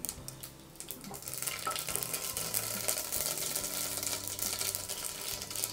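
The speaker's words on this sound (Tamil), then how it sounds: "இப்போ எண்ணெய் காஞ்சிடுச்சு, கடுகு போட்டுக்கோங்க." Steady crackling and popping of mustard seeds spluttering in hot oil while cooking tomato rasam, continuing throughout at a moderate level with no voices.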